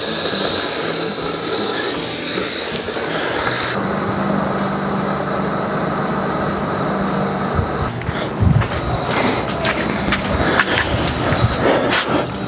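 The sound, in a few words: air letting out of a 4x4 tyre via deflator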